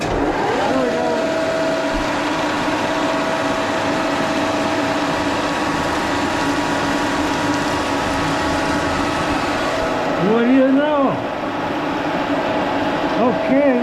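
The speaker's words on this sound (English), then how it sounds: "Let's see if it'll plunge into this aluminum here." A restored carbide endmill spinning at 1550 RPM plunges into aluminum. A loud, steady machine drone runs throughout, then a brief rising, pitched squeal sounds as the cutter bites near the end.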